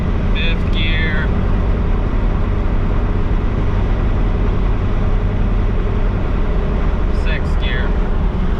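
A semi truck's engine drones loudly from inside the cab on a cross-country highway haul, a steady, dense rumble with a couple of brief high chirps and no distinct pauses.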